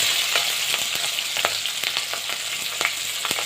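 Chilli chicken ingredients sizzle steadily in a hot pan, a constant bright crackle broken by small stirring clicks and pops, close and alone.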